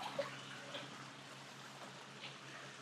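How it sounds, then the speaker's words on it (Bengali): Water flowing and trickling from a source beside a large tree at dusk in Meghalaya, a steady close wash of running water heard alone throughout. "এই যে জল আসছে।"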